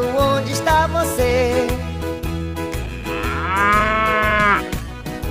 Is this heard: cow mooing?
yes